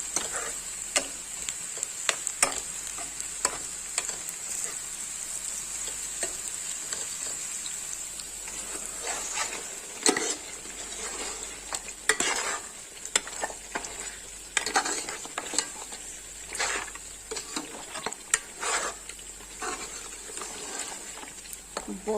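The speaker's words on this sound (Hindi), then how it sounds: "इधर प्याज ब्राउन हो रहे हैं" Onions browning in a pan for spicy garlic beef: a continuous sizzle of frying with repeated sharp scrapes and taps of a spoon stirring against the pan, close and steady throughout.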